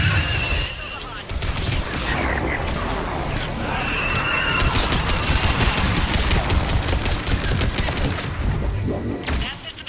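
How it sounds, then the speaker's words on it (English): Missiles launch in the Mass Effect 3 battle on Thessia, a loud, dense barrage of rushing blasts and booms that keeps up without a break, with a whinnying cry and a voice mixed into the din. "Missiles are hot."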